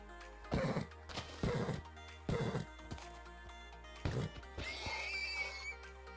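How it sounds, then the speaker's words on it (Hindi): A horse in the Minecraft video game neighs and whinnies repeatedly as it is attacked, with a series of loud crashing hit sounds spaced through the clip and no talking over them. "तो सामने घोड़े हैं"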